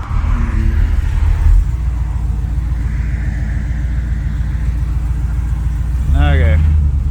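A car with freshly rolled wheel arches pulls out of a driveway under full throttle. Its engine gives a loud, steady rumble throughout, then a rising rev surges near the end.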